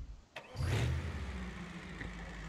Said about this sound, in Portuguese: Já deu pra perceber que o barulho é completamente diferente, né? Pois é. É um motor biturbo diesel.